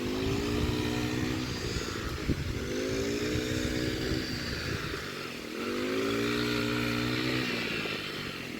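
A motorcycle rides along a track by rice fields after rain, its close, steady engine drone rising and falling as it speeds up and eases off, with no talking.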